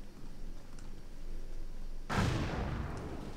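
Musket volley fired by massed troops in the Cossacks 2: Battle for Europe video game at the Battle of Waterloo, a single sudden crackling burst of gunfire after quiet battlefield rumble, fairly faint and distant.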